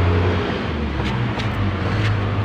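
A Mitsubishi Lancer with a 4G15 engine and a black smoke problem idles close by in a steady, loud, rough drone as its revs sag low.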